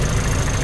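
A Toyota Kijang engine idles at a steady, even rumble for a brief moment, close and fairly loud with no other sounds.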